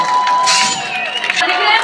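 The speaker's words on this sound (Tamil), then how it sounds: "ஒரு பெரிய பெரிய கைத்தட்டோட லெட்ஸ் வெல்கம் முனைவர் திருமதி பர்வீன் சுல்தான் அவர்கள்" A crowd at a Tamil festival celebration in Ras Al Khaimah cheers and whoops to welcome a guest onto the stage, loud bright shouts and voices rising and falling over a steady background din.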